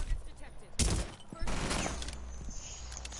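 Rapid bursts of gunfire ring out in a shooter video game, loud and close, with overlapping shots across a few seconds.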